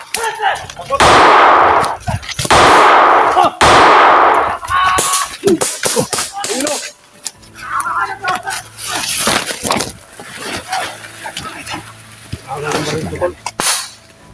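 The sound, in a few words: gunfire in a shooting video game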